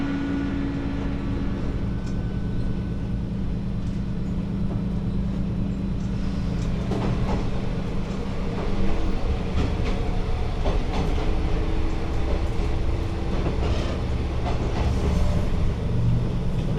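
A train crawls slowly along the Geibi Line in Japan, a continuous low rumble with intermittent clicks and clatter of the wheels, heard steadily from inside the carriage without talk.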